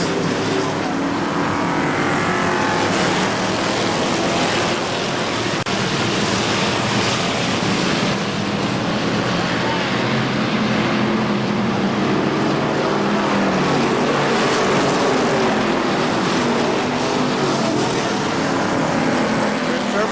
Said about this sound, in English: And now your new leader, car number 12, John Maloney, as he takes it down the front stretch